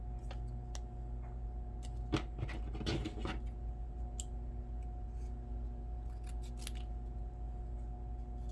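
Scissors cutting paper for a handmade scene card, a series of close, crisp snips and a cluster of quick cuts over a steady low background hum, with no talking.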